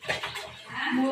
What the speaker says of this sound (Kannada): 3 ನೀರು ಹಾಕಿ ಚೆನ್ನಾಗಿ ಮಳ್ಳಕ್ ಬಿಡ್ತೀನಿ